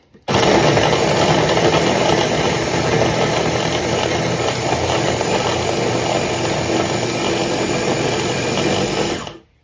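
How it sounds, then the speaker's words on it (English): A Ninja blender grinds meat for homemade deli meat, a loud, even motor roar that starts abruptly, holds steady for about nine seconds, then cuts off. "just blitz this until it's ground up smooth"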